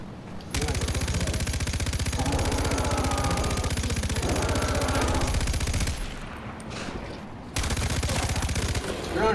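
Heavy weapon fire in Far Cry 4, a sustained loud rapid stream of shots lasting several seconds, then a short pause and another burst.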